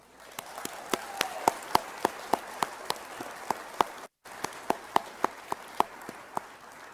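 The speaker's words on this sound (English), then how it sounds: "Let's get a round of applause for these graduates" A graduation ceremony for the class of 2021 gets a round of applause: a sparse, steady train of sharp individual claps over a hiss of background noise, broken by a brief dropout midway.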